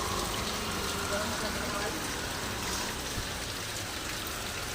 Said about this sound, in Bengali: এখন কিন্তু সরাসরি বৃষ্টি হচ্ছে